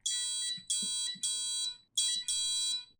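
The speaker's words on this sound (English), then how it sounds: "Finally, that buzzer." Shrill, piercing beeps from an Arduino-controlled buzzer, five pulses in a steady on-off pattern, loud and close with nothing else around them.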